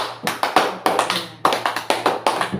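A small group claps hands in a classroom or meeting session, quick clustered bursts of applause repeating several times, close and lively with no talking.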